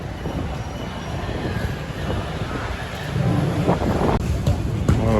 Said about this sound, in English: Maybe metro is going here